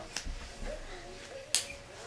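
A baby claps twice, the sharp smacks spaced a little over a second apart against a quiet room background.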